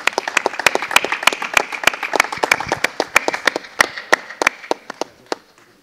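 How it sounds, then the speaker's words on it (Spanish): Applause for a retired couple at a town hall ceremony: a small audience claps steadily with distinct, fairly close individual hand claps, fading toward the end. "Un aplauso para ellos."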